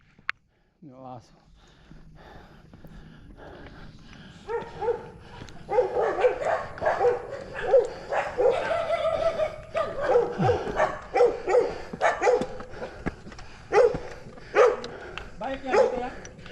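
A dog barks and yips repeatedly at close range, with people talking over and between the barks.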